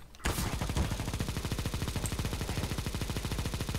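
Negev light machine gun from Counter-Strike: Global Offensive firing one long sustained automatic burst, rapid evenly spaced shots close and loud after a brief silent start.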